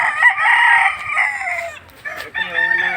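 Chickens on a farm with a rooster crowing loudly and close by, a long crow followed by a short break and another crow, over faint background clucking.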